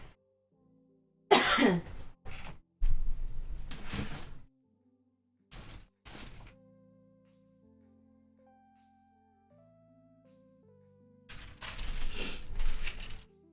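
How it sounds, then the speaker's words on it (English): Several short, harsh throat-clearing coughs in quick bursts, close to the microphone, separated by quiet stretches with faint background tones. "probably will be clearing my throat every 5 seconds"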